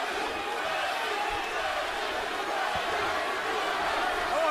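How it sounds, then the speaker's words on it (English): Boxing arena crowd chanting a fighter's name, a dense, steady roar that fills the whole clip with no clear breaks. "And the crowd begins to chant Bradley, Bradley."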